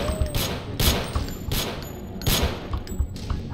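Bursts of gunfire from the video game Deus Ex, about four loud volleys of rapid shots spaced through the clip, with no talk over them.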